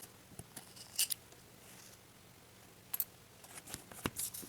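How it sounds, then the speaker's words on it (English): Scissors snip through a bundle of yarn for a tassel, with a few faint, close crisp cuts and small handling rustles scattered over a quiet room background. "And then we're going to snip that off."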